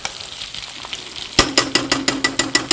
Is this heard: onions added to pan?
yes